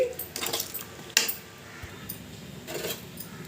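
A ladle stirs okra curry with yogurt in a pot, making a few quiet metallic scrapes and clinks, one sharper knock in the middle. The sounds are sparse and close, with no voices.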